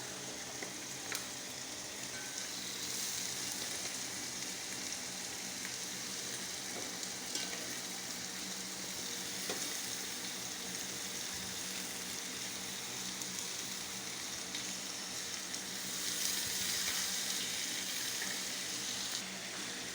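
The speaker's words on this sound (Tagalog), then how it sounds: "Haluin lamang po natin siya ng maigi para magisa ng maayos. Ayan po, ginigisa na." Chicken feet sauté with seasonings in a hot pan, giving a continuous broad sizzle with scattered stirring scrapes and crackles, fairly quiet and steady throughout with no voices.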